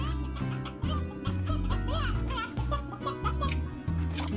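Chickens in the video game Slime Rancher cluck and squawk repeatedly in quick, busy bursts over a pulsing game music bed, loud and close, with a voice and giggling mixed in.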